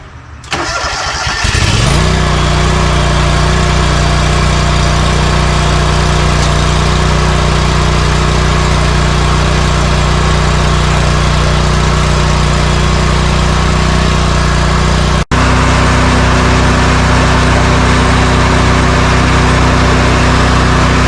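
A John Deere tractor engine cranks briefly and catches, then settles into a steady, loud idle that runs on without a break, with no talking over it.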